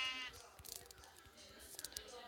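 Black sheep in Minecraft Pocket Edition give faint, brief bleats amid soft game noises, with a voice talking over them.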